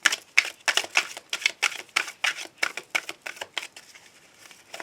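Tarot cards riffled and shuffled in quick bursts of crisp, papery flicks, close and fairly loud at first, then thinning into softer, quieter rustles.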